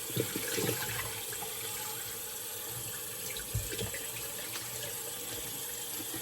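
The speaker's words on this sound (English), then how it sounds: "Rinse off real quick." Tap water runs steadily into a sink for a rinse after shaving, a continuous hissing splash with small gurgles and bumps, fairly close and alone.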